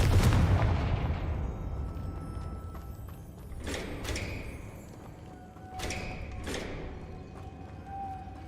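A Confringo blasting spell from Hogwarts Legacy goes off with a loud, booming burst that rings out and decays. Several softer thuds and sharp magical bursts follow at intervals.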